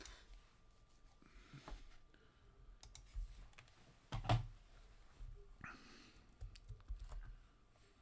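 Quiet, scattered clicks of typing on a computer keyboard sound close by, with one louder knock partway through and no talk.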